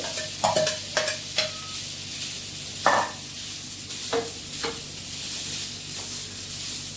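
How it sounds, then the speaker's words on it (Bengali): Leftover chow mein being reheated and stirred in a hot pan, a continuous close sizzle broken by several sharp scraping and clinking strokes of the utensil, no talking. "চাউমিনটা গরম করে আজকে ব্রেকফাস্ট করছি"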